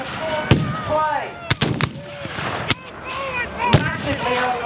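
Cannon fire at a Civil War battle reenactment: about five sharp, loud booms at irregular intervals, with background voices and shouting between them.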